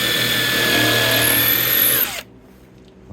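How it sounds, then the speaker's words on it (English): A power drill whines loudly and steadily as it pre-drills a hinge hole in a wooden tree swallow nest box, its pitch rising briefly before it stops abruptly, leaving near silence. "And then we're going to go ahead and pre-drill."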